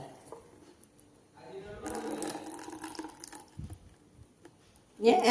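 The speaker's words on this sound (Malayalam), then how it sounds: "ഒരു ബൗളിലേക്ക് ഒഴിക്കുന്നുണ്ട് കേട്ടോ" Sunflower oil pours steadily into a bowl for a couple of seconds, a soft splashing trickle, followed by a short clatter at the end.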